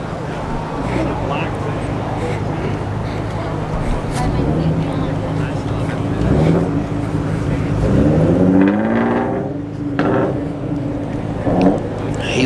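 A Nissan 370Z revs at a car meet, its engine note rising and falling in swelling sweeps over a steady crowd-and-traffic background, with people talking throughout.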